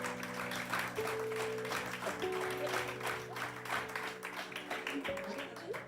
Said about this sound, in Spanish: Dan un aplauso al Señor.